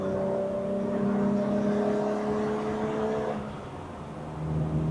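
BMW 325i E30 convertible engine holding steady revs with clear harmonic tones, then easing off as the pitch drops before building again, heard from inside the car with no talking.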